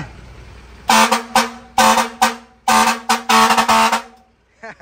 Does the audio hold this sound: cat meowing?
no